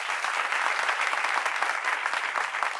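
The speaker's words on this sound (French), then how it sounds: "on peut les applaudir s'il vous plaît" A studio audience on a French-language talk show claps steadily and evenly, a dense wash of applause with no voices on top.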